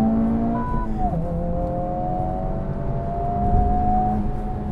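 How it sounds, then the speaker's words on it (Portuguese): A Honda Civic Type R engine blips and revs as the car downshifts, a sustained mechanical drone that sweeps in pitch, heard from inside the car, steady and fairly loud with no talk. "vou dar uma reduzida sem necessidade aqui"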